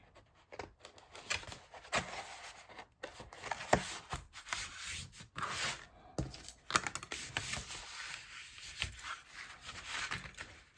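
Paper for a collage piece is folded and creased by hand, with intermittent crinkling, rubbing and sharp pressing sounds coming in irregular bursts, close and quiet.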